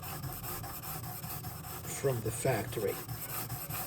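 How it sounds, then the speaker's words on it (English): A blade is rubbed back and forth on a sharpening surface in a steady rasping rhythm, close up, while a voice speaks briefly over it. "this is the first time I sharpened this one"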